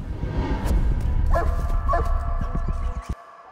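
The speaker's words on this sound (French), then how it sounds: "J'entends le chien là qui est pas très loin." Gendarmerie tracking dog barking in a forest, a few short yips and barks at moderate distance over steady outdoor background noise.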